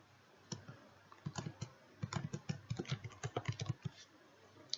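Fingers type on a computer keyboard in quick, uneven bursts of soft clicks and taps, close and fairly quiet, with brief pauses between clusters.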